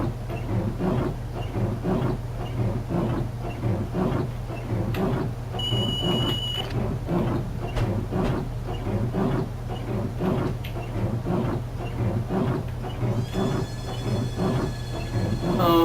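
Class 395 Javelin electric train in the Train Simulator 2014 game on the Frost Fall route, a steady loud rumbling run with rhythmic wheel clatter over rail joints and brief high electrical whines, continuous throughout with no talking.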